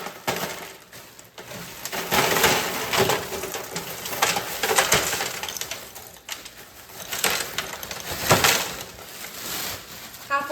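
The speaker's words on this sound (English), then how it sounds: "Go ahead and do a small layer of ice." Ice poured into an ice bucket clatters and crunches in several bursts of rattling cubes, heard close and fairly loud.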